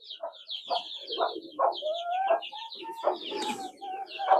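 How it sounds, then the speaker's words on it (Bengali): An Egyptian Fayoumi rooster of about 4 to 5 kilograms on a village farm makes a series of close, throaty clucks and low calls, with other birds chirping alongside throughout. "এটা মিশরীয় ফার্মি মোরগ 4 থেকে 5 কেজি হবে"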